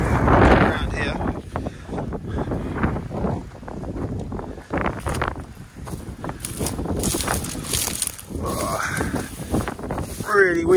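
Strong wind buffets the microphone in loud, uneven gusts at the site of former RAF Kings Cliffe airfield, with a voice speaking briefly in between.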